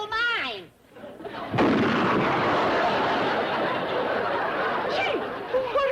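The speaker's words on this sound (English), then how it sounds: "She has a gun? A cannon." A cannon fires in a comedy scene with one sudden loud boom that rolls into a long rumbling, crackling roar lasting several seconds, preceded by a voice and trailing into more talk.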